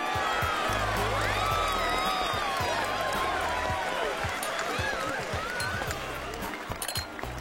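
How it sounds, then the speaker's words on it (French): An animated audience applauds and cheers for a band about to perform, a dense, loud wash of clapping and whoops that holds steady throughout, with faint music-like tones and chatter mixed in. "veuillez applaudir très fort le prochain groupe"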